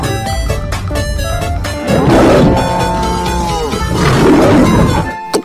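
A leopard roars in deep, loud, rasping bursts, two long swells close to the listener with harsh grit, alone without talk.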